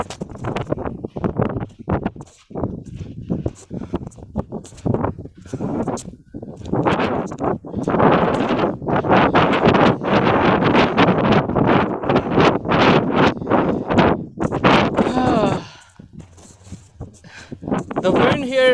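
Strong wind gusts across an open riverbed near Cuttack on a hot day, buffeting the microphone in a loud, continuous roar, while a person talks over it.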